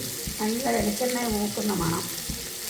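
Dried kurichi fish frying in a pan of hot oil, a steady sizzle with stirring clatter, while a voice talks over it.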